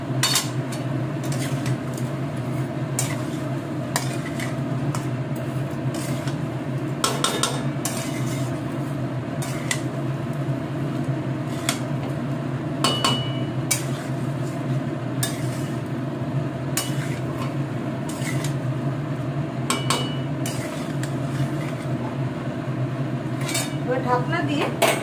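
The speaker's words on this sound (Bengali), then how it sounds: "দিয়ে আবার ভালোভাবে মিক্স করে নিচ্ছি।" Chicken being mixed with spices and a little salt in a pot for morog polao, with steady scraping and clinking of a spoon against metal over a constant background hum.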